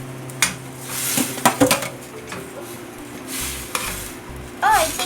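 Instant pancit canton noodles being mixed with cabbage in a pan: a few clanking utensil hits and scraping stirs over a soft sizzle, brief and close.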